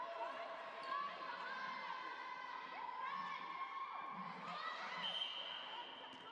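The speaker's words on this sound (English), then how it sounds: "You can hear the crowd are getting quite excited here." Excited crowd noise at an under-17 netball match between Ireland and Malta in a sports hall, with a steady blend of shouting and cheering voices, ball bounces and commentary-style talk running throughout.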